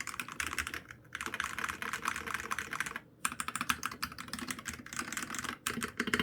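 Fast typing on a MelGeek MADE84Pro mechanical keyboard, close and crisp, produces a dense run of clacky keystrokes with a slight metallic clang and brief pauses between bursts.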